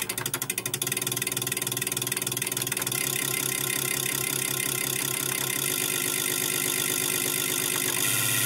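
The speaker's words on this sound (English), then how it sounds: "at 2, the relays hit saturation and can't switch" Relays in an HP 59306A relay actuator switch at a very fast rate, merging into a dense, loud buzzing chatter that drones continuously like a running motor.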